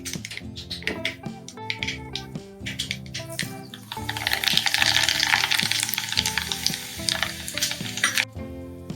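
Mustard seeds crackle and pop in hot oil with the heat turned off, a dense sizzle that swells midway and then tapers, close and loud with no talking, while white turmeric pickle is being made.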